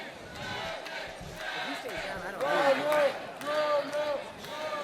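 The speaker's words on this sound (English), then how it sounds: "Local fans here cheering a magic for Mike Hamel" Local fans cheering at an MMA fight in LFA 72: a crowd roar that swells and falls in waves beneath commentators talking over it.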